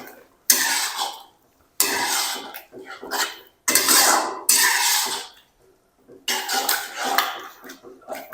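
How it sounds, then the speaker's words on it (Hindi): Yogurt is stirred into karahi gosht in a pot, with bursts of wet scraping and clattering from the spoon against the metal, close by, separated by brief silent pauses. "दही को मिक्स करेंगे"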